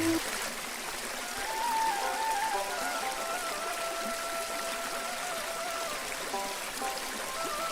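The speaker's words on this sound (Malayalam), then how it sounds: "വാട്ടർ ഫൗണ്ടനിലെ വെള്ളത്തിന്റെ ശബ്ദവും നമുക്ക് തരുന്ന അനുഭൂതി" A decorative indoor water fountain trickles and splashes steadily at moderate loudness, a soft continuous wash of falling water with faint tonal hum beneath.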